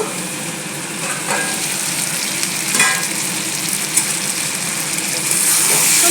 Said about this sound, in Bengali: এটাকে কষিয়ে নেব।